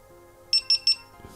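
GoPro action camera powering on after its battery is reinserted, three short high-pitched electronic beeps in quick even succession, close and clear over a quiet background.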